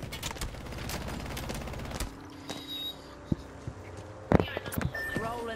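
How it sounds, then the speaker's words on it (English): Bursts of gunfire in an Apex Legends match, with dense rapid shots at the start and sharper isolated cracks later, over game sound effects at moderate loudness. "I am taking fire"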